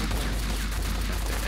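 Gunfire in the shooter game Max Payne comes as a dense, continuous burst of shots, loud and close, filling the whole short moment without pause.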